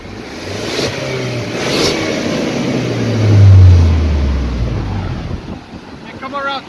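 A 2019 Ford Ranger crew cab with the 2.3L turbo four-cylinder and stock exhaust revs outdoors, a low engine note swelling to a peak midway then easing off, with wind buffeting the microphone.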